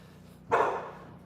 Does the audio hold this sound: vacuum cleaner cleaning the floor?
no